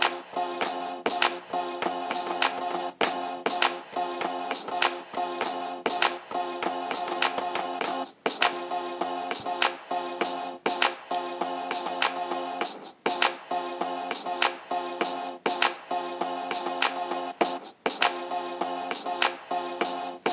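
A basic synth melody repeats as a four-bar loop of evenly timed notes, playing steadily and fairly loud throughout with no voices.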